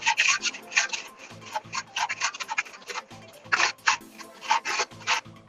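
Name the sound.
sanding burrs off a knife blade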